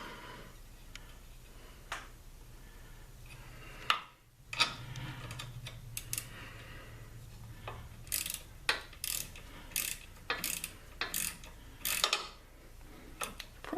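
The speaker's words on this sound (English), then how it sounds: "relatively new 1/4 inch ratchet, and it already is not working very well." A relatively new 1/4 inch ratchet wrench that is already working poorly clicks in short, uneven bursts during a Jeep TJ driver's side fender replacement, close and fairly crisp over a low background hum.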